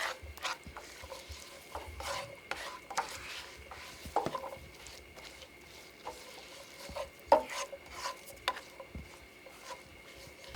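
Black beans are stirred and warmed in a pan, with soft intermittent scraping and clinking of a utensil over a faint sizzle, close and quiet.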